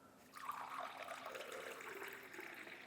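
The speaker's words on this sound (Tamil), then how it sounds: "இப்போ நான் ஊற்றின கப்புலேயே இதை நான் ஊற்றி காட்டுறேன் பாருங்கள்" Herbal cold-remedy decoction is poured into a cup, a soft close trickle of liquid that begins after a brief quiet moment and continues steadily to the end.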